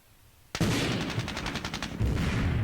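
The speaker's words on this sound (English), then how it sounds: "Let's lay down some machine gun fire on these guys with the heavy machine gun there." Heavy machine gun fire in a WW2 strategy video game starts abruptly as a rapid, sustained burst of evenly spaced shots, loud and close, followed by a deeper rumbling volley near the end.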